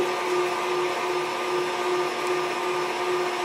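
An electric hand mixer whirs steadily, close and loud, beating carrot cake batter as eggs are added one at a time, with a constant motor hum and no pauses.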